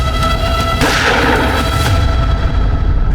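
A gunshot in a dramatized crime scene, a sudden loud boom that rings out and decays over a couple of seconds against a dense, noisy background with no clear talk.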